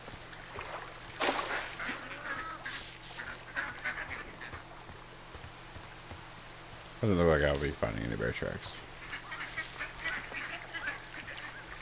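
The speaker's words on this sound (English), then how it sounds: "Lots of ducks." Duck quacks from the video game Firewatch ring out around seven to eight seconds in a loud honking burst, with someone talking intermittently over quieter outdoor game ambience.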